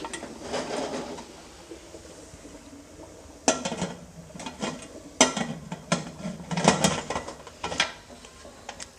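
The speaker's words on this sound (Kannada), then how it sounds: "ಇವಾಗ ನಾನು ಕುಕ್ಕರನ್ನು ಕ್ಲೋಸ್ ಮಾಡ್ಕೊಳ್ತೀನಿ" Clattering metal knocks and clunks from a pressure cooker lid being fitted and closed over an idli stand, several sharp bursts at close range with no voices.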